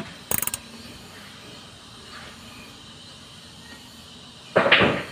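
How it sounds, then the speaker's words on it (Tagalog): A Suzuki F6A engine's camshaft pulley is turned by hand, giving a quick burst of metallic clicks at the start, a quiet stretch, then a louder rasping mechanical burst near the end. "paikutin natin yung camshaft pulley para mabot sa timing."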